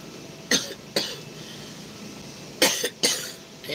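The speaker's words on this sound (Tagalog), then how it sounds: "Ayan o, ubo-ubo pa." Several sharp coughs from a person, a pair of quick bursts early on and another pair near the end, fairly close and alone with no talking.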